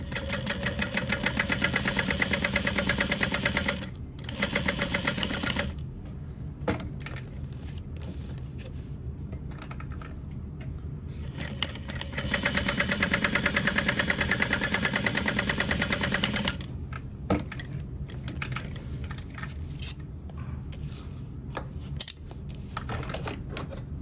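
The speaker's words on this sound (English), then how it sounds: "So we will sew that in place." A sewing machine stitches a fabric parachute knapsack in steady, fast mechanical runs lasting several seconds each, with short pauses between bursts and some clicks as the work is repositioned.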